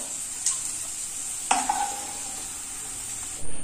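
Cashews and raisins fry in a pan for Onam sadya parippu payasam, giving a steady high sizzling hiss with a sharp metallic clink of a utensil and light stirring scrapes.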